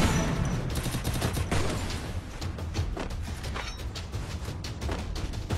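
Continuous fusillade of video game gunfire fills the scene, dense overlapping shots and booms in a squad battle, loud and steady throughout with no pause.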